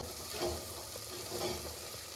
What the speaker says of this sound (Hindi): सिंगरे भी अच्छे से फ्राई करूँगी